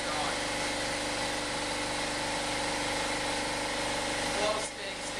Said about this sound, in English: our compressor just kicked on